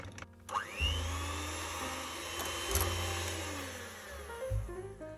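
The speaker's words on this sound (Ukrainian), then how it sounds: "Далі беремо заварну основу, тобто крем патісьєр, і також трішечки його пробиваємо міксером." Electric hand mixer whirring as it whips crème pâtissière, a steady close motor drone that shifts pitch slightly as the speed and load change, with no talk over it.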